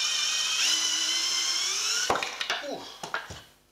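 A high-pitched power drill whines steadily for about two seconds while boring through wood for a sanshin or shamisen build, then stops, followed by clattering knocks and handling noises as it winds down.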